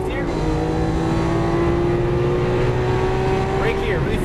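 Lamborghini Aventador LP700-4 on track, engine roaring loud and close as it accelerates, its steady pitch climbing before an upshift near the end, with a voice briefly heard over it.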